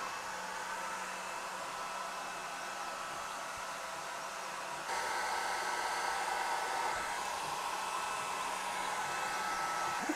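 Swiitol C18 Pro 18W laser engraver running a framing pass, a faint steady motor whir and hiss that steps up slightly halfway through and continues evenly, with no voices.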